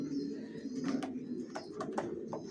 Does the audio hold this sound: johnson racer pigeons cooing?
yes